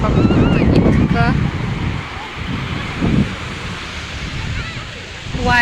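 Strong wind gusting at a small Goa beach, a constant broadband rush buffeting the microphone with surf mixed in, loud throughout, with a person speaking over it at times.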